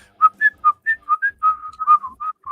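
A person whistles a movie theme tune alone, a bright melodic line of short, distinct notes with clear gaps between them.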